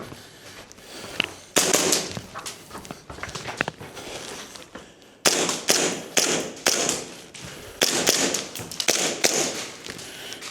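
A Tokyo Marui 1911 airsoft pistol fires at small targets, a close series of sharp, snappy shots in irregular clusters with brief pauses between bursts.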